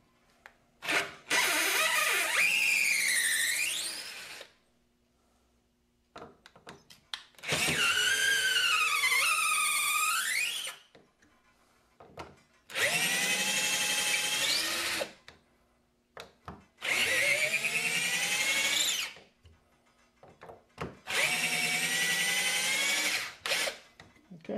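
A Warrior 18V cordless drill from Harbor Freight backs 3.5-inch deck screws out of two 2x4s and a 1x board: five loud whirring bursts, each several seconds long, rising and falling in pitch with short silent pauses between.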